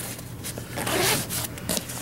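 A double zipper on a backpack slides open in a few quick rasping pulls, close and clear with no talking.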